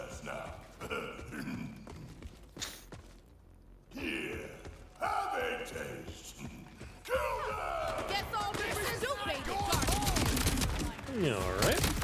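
Gunfire and shotgun blasts in the Borderlands 4 video game come as chaotic bursts of overlapping shots, mixed with game effects and voices throughout.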